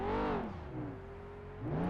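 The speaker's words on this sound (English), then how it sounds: "I can hear a car coming from up the road" A rally car on the Targa Sicilia road stage approaches from up the road, its engine note rising and sweeping in pitch as it revs, fading slightly mid-pass then swelling again as it nears.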